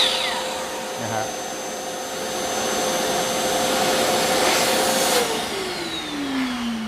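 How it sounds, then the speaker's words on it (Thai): An automatic wet-and-dry vacuum cleaner runs with a loud, steady whooshing roar and a whine, then its motor pitch slides downward near the end as it starts to wind down. "เปิดเครื่องแล้วดูดนะครับ"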